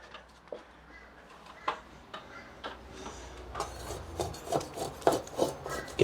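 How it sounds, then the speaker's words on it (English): Loose, peeling paint scraped from a drywall ceiling, a run of rough rasping strokes that grow louder and more frequent, close up with no talk. "this is the first step. We're just going to scrape back"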